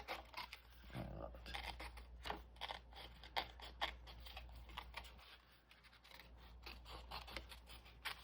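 Scissors snipping through a paper tag for a mixed-media craft project, a steady run of short close cuts and scratchy rubbing, quiet and alone.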